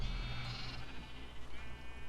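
Sheep bleat in Minecraft, a couple of short nasal bleats up close over a quiet game background.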